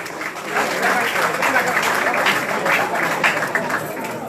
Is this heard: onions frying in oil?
no